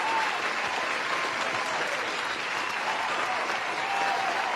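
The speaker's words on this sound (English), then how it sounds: "Please, a round of applause to you." Steady, even applause from a group, a continuous dense clapping at constant loudness throughout without talk.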